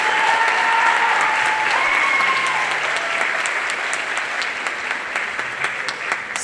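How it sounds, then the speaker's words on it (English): An audience claps loudly and steadily at a middle school spring band concert, the applause holding strong before gradually thinning toward the end, with no talking. "So please give them another round of applause."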